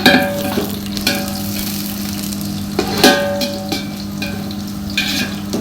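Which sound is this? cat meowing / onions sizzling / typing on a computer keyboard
onions sizzling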